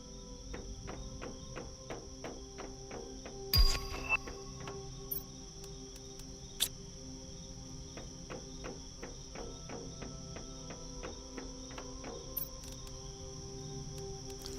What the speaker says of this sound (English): Oh, I'm hearing crickets.